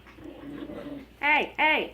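Pet dogs playing at home make soft low whines and whimpers, then give two loud, close, high yelping barks in quick succession, with a voice speaking briefly.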